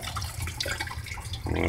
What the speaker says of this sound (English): Got my running water back.